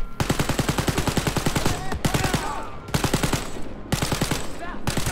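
Rapid automatic gunfire in Wolfenstein: Youngblood, played on PC, rattles out in dense, loud bursts separated by brief pauses, with a few more bursts following.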